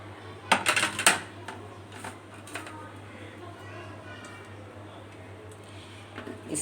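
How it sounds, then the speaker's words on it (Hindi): Okra dropped into a freshly washed kadhai for a lady finger curry, a quick cluster of sharp clattering knocks up close, then a few scattered light taps over a steady low hum. "अब मैं इसमें भिंडियाँ डाल रही हूँ।"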